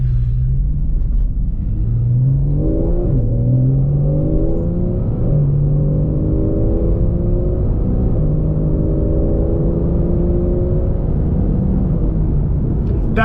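A Porsche 911 Carrera 991.1 with its 350-horsepower rear engine accelerates in sport mode, heard from the cabin as a steady loud rumble with rising engine tones through quick PDK gear changes.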